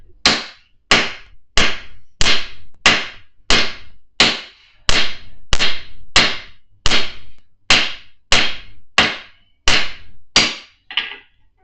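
Hammer blows on hot metal at an anvil during forging, about seventeen sharp ringing strikes in a steady, even rhythm, loud and close, with no talking.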